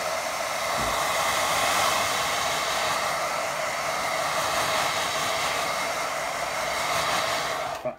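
A hair dryer blows steadily and loudly over a watercolour painting of a little house, a constant close whoosh running unbroken for about eight seconds before cutting off at the end.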